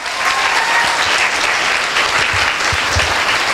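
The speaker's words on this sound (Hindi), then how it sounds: "एक जोरदार ताली होनी चाहिए दोस्तों" An audience at a speech breaks into steady, dense applause that fills the room from start to finish, with no talk over it.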